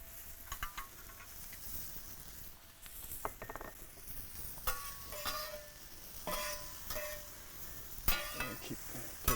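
Mushrooms frying in butter on a MoJoe outdoor griddle, a low steady sizzle with scattered taps and scrapes of a spatula stirring, at moderate distance.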